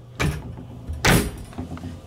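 A hotel room cabinet door at the Paris Las Vegas opens close by, with two quick bursts of movement, a sliding or swinging thump followed by a louder scrape, then quiet handling.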